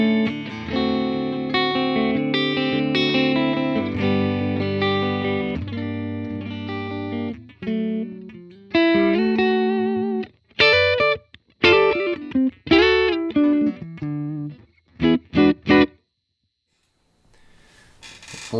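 Clean electric guitar through a Universal Audio Ruby '63 amp, with sustained chords at first, then separate plucked notes and short phrases with pauses between them, close and clear.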